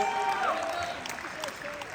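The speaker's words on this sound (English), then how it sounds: "Round of applause, guys." Guests at a wedding reception keep up a fairly soft, steady round of applause, with a thin tonal sound and a few voices mixed into the crowd noise.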